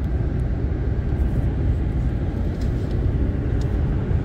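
A 2007 Ford F-150 pickup cruising at a steady 60 mph with engine near 1800 RPM in a light crosswind, heard from inside as a continuous, loud, low road-and-engine rumble with steady wind hiss.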